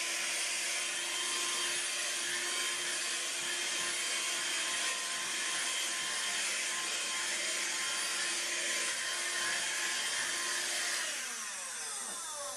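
A handheld Dustbuster vacuum runs steadily and loudly, whooshing as it sucks dirt from a kitchen doormat, its pitch dropping near the end as it pulls away or powers down; no voices are heard.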